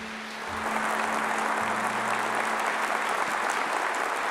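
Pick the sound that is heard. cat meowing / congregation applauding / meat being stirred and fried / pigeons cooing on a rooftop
congregation applauding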